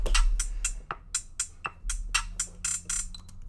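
Short, crisp electronic drum hits in a quick pattern, with bursts of rapid rolls between sparser beats, fairly quiet.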